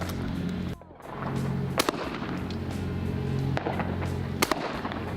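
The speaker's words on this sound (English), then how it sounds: "nice shot, Desi." Gunshots ring out at a 2016 Coyote Springs shooting competition stage: several sharp, well-spaced reports cut through steady outdoor background noise.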